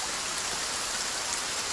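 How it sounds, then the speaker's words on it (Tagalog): Steady rain falls hard and continuously, a dense even hiss of drops on surfaces with no voices over it. "Grabe, umuulan."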